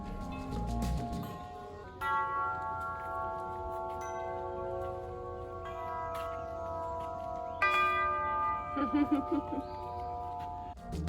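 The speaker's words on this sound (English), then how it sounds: "you have to ring every chime possible." Metal chimes in an outdoor sound garden ring out in several separate strikes, each with a bright sustained tone that slowly fades and overlaps the next, heard clearly against quiet surroundings.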